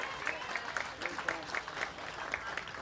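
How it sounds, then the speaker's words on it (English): An audience at a 50th musical anniversary celebration applauds for an honoree, giving a soft, distant patter of clapping that stays fairly even throughout the short stretch. "So let's give Devin a nice round of applause."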